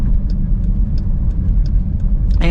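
A supercharged Dodge Durango SRT SUV's engine rumbles steadily and loudly at light throttle, a deep continuous drone with faint ticks above it and no talking.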